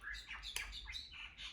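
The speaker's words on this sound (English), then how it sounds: "Yo, these birds, child." Birds chirp and squawk outdoors in a fairly continuous, busy chorus of short calls, moderately near with no talking.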